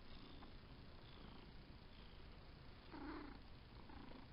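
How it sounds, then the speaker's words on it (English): A soft, steady cat purr close by, low and continuous, with a brief louder rumble near the end. "You can probably hear her purring."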